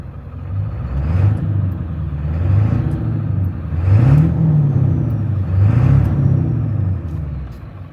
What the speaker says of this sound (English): So you guys can hear that turbo and the exhaust